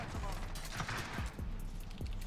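FAL rifle shots in the Modern Warfare video game crack out as several sharp, spaced reports over steady game background noise, close and loud.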